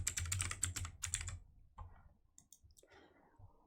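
Quick bursts of clicking keystrokes on a computer keyboard, close and crisp, then a pause with a few scattered clicks afterward.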